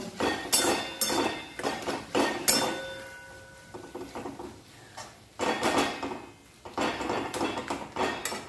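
Eggplant and chicken for begun chicken bharta, lightly salted, being stirred and fried in a pan: repeated scraping, clinking bursts of a utensil against the pan in uneven strokes, close and fairly loud, with no voices.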